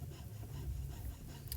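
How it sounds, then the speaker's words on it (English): A jeweller's saw cutting through a metal ring band, giving a short, close, dense rasping stroke with a low scraping rumble, steady and unbroken for under two seconds. "sawing the piece away."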